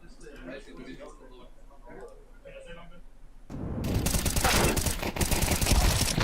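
SMG fire in Counter-Strike 2 during a pro match, a loud rapid stream of shots that cuts in after a few seconds of commentary and rattles on to the end, with a caster's voice underneath.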